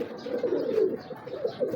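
Pigeons coo close by in soft, low, rolling bursts, two or three throaty phrases that come one after another.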